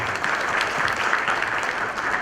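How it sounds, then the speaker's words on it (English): Steady clapping from an audience fills the short stretch, a dense, even round of applause with no voices over it. "Let's welcome them with a huge round of applause"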